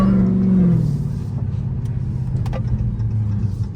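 A Dodge Challenger Hellcat fitted with a Pedal Commander throttle controller drives along, its engine a loud, steady low rumble that eases slightly after the first second, with no voices.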